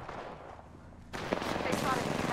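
Gunfire aimed at the player in an arena-mode shooter video game: quiet at first, then from about a second in a dense, loud burst of rapid shots and impacts that keeps up to the end under some faint voice.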